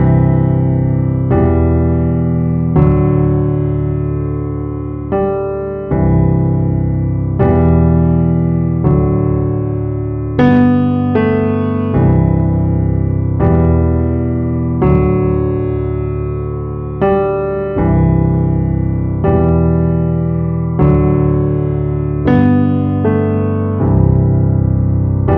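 Piano plays the verse of a song, with steady sustained chords and a simple melody moving through repeated phrases, loud and close with no voices.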